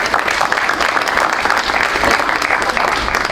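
Sustained audience applause at the close of a talk on faith and the Ten Commandments, steady and dense clapping from a full room throughout.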